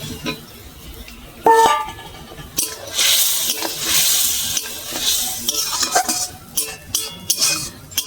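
Fried potatoes hit a pan of sizzling spices and are stirred in while cooking a soybean dhoka curry; loud bursts of frying hiss come and go alongside scraping spatula strokes against the pan.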